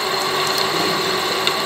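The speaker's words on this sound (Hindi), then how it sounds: "ये देखिए कैसे ड्रिलिंग की जा रही है" A pillar type drilling machine bores a hole in a workshop, giving a steady mechanical whir with a faint rattling, gear-like texture and a couple of small clicks, loud and continuous with no voices.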